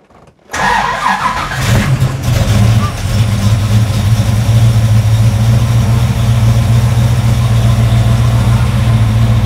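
A car with a suspected non-charging alternator and a weak battery cranks briefly and catches, then settles into a loud, steady idle that runs to the end, close to the engine bay.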